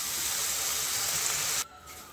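Chili and turmeric masala sizzling in a pan after a little water is added, a loud, close, steady hiss that cuts off abruptly and drops to a quieter simmer.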